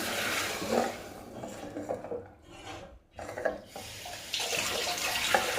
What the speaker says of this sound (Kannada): ಇದಕ್ಕೆ ನೀರನ್ನು ಸಹ ಆ್ಯಡ್ ಮಾಡಿ